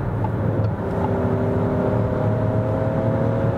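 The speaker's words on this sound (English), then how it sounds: "So you see the engine does struggle a little bit." Small turbocharged petrol engine of a Peugeot 5008 SUV pulling hard under acceleration on the motorway, a steady droning engine note with rising harmonic whine and road rumble throughout, loud and continuous with no talking.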